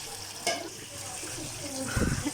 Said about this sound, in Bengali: এখন এগুলো আমি অল্প আছে ভাজতে থাকবো, যাতে ভিতরে ভালোভাবে কুক হয়।